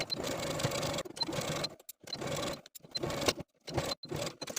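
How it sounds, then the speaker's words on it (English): A sewing machine runs a zigzag stitch along the top of a jumpsuit waistband, in several steady bursts of whirring separated by short pauses, close and clear. "sewing a zigzag stitch along the top of that waistband"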